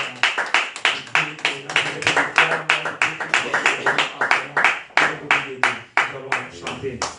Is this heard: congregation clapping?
yes